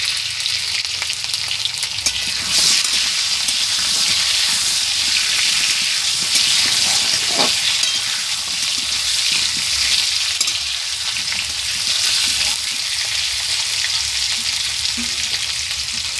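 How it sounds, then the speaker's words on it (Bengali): Potatoes crackle and sizzle steadily in hot oil in a wok, a dense, continuous frying hiss that holds at an even level throughout with no voices. "আলুটা আমি লাল লাল করে ভেজে নেব।"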